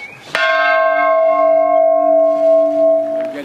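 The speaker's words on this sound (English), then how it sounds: "the ringing of the peace bell, especially significant on the 25th anniversary of the Good Friday Agreement" The Peace Bell at Áras an Uachtaráin struck once on the 25th anniversary of the Good Friday Agreement, a loud close clang that rings on with a pure, slowly fading tone for about three seconds.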